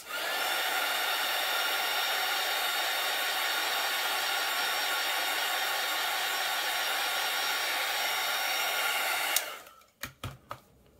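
A hair dryer blows steadily and loud for about nine seconds over a watercolour winter night painting, then switches off, followed by a few faint knocks and clicks.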